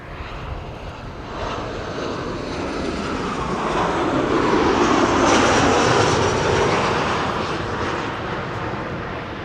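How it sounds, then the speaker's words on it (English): A Tarom Boeing 737-800 arriving from Bucharest lands at Schiphol. The steady jet rumble builds gradually to a loud peak and then eases away as it passes, with no one talking. "Tarom Flight 361 arriving from Bucharest. 737-800."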